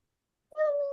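A single cat gives one short, clear meow that starts abruptly after a half-second of silence and sounds close.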